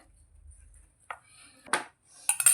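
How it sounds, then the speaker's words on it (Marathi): Roasted garlic cloves are crushed fine with a pestle, heard as a few sharp, separate knocks and scrapes with quiet gaps between them, close by and without talk. "ह्याला असं कुटून घ्यायचं आहे आपल्याला बारीक करून घ्यायचं आहे"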